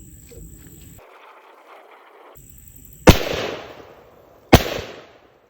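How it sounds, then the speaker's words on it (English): A Beretta 1301 shotgun fires buckshot at plate targets outdoors, two sharp, loud blasts a second and a half apart, each trailing off in a long echo, with quiet faint noise before. "now I'm going to shoot an 8 pellet group on the left at 30 feet, followed up by a 9 pellet group on the right"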